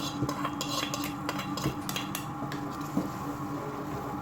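A spoon stirs tempered moong masoor dal in a metal pot, with repeated clinks and scrapes against the sides in an irregular rhythm, close and moderately quiet, with a faint sizzle underneath and no talking.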